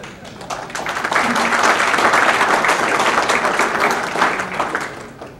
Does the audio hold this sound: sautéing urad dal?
no